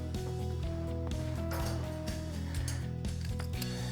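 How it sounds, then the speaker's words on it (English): Mechanical clicking and ratcheting as a Safetycinch ratchet strap on a crate is released at a dock, with a steady low hum underneath and scattered sharp clacks, close up and without talking. "We're going to undo our cinch."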